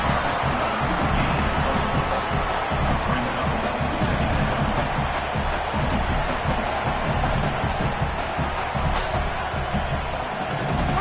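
Steady roar of a stadium crowd in a college football video game, loud and continuous without breaks, a dense wash of cheering noise throughout.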